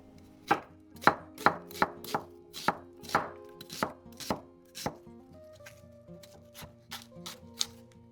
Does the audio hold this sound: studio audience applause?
no